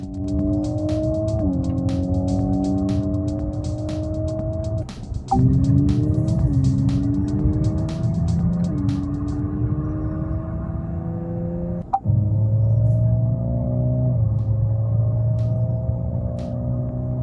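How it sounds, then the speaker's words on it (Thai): An ORA 07 electric car plays a synthesized race-car engine sound from inside the cabin, a steady loud drone whose pitch repeatedly sweeps upward like gear changes, with short breaks between the rising runs. "เลือกเสียงสังเคราะห์แบบรถแข่งก็ได้ด้วยครับ"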